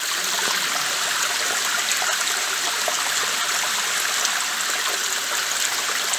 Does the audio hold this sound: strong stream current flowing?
yes